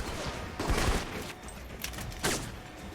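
Gunfire in the video game Alpha Protocol crackles in scattered bursts, with a few sharp close shots and a heavier burst near the end over faint background ambience.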